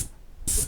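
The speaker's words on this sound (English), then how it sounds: "Spraying windows." A paint sprayer applying primer to windows in an old house, with a faint hiss at first, then a loud, steady burst of spray.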